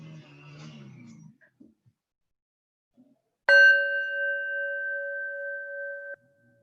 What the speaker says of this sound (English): I'll start by ringing the bell.